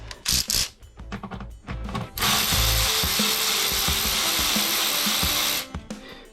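Ratchet wrench working a bolt on the engine of a Citroen C3 1.2 82 hp (HMZ), heard as a loud, dense run of rapid clicking that continues steadily for several seconds after a few scattered knocks and clanks.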